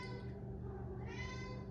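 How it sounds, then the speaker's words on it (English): A pet cat meows repeatedly indoors, wanting to go outside; close, steady mewing with tonal harmonics over a constant low household hum, no talking. "My cat's trying to go outside because he went outside earlier"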